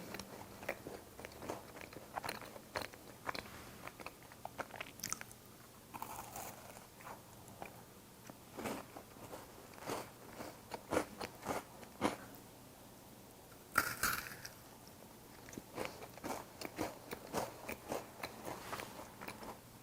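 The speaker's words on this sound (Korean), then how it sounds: "먼저 맛이 너무너무 궁금한 말랑카우 필링의 마카롱부터 먹어볼게요" Close, crisp bites crunch into a homemade no-bake macaron with Malangcow candy filling, followed by repeated quiet chewing and small crackles in an otherwise silent room.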